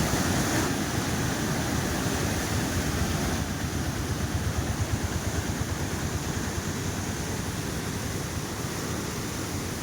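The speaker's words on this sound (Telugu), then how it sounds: "ఎలా పడుతుంది వాటర్" Water pours and rushes beneath an old bridge over the Kinnerasani, a dense, continuous roar that stays loud and steady from start to finish with no voices.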